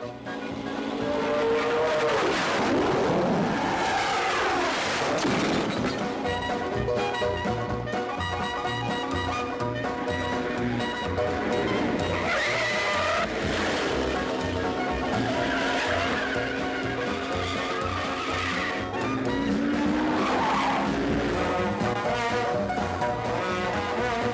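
A car overtakes and skids near a humpback bridge in a 1962 comedy film, engine roaring loudly with repeated drawn-out tyre squeals and revving throughout, no talking.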